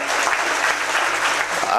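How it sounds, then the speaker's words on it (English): A big round of applause at a company secretaries' convocation in southern India, dense sustained clapping from a large seated audience, loud and continuous throughout. "give a big round of applause"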